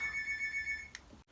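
A phone rings with a fast electronic trill repeated several times, steady and moderately loud, then cuts off abruptly with a short click.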